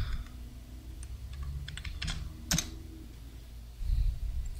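Someone types a password on a computer keyboard with a short run of light, quick keystrokes close by. A few louder clicks follow, over a low background hum.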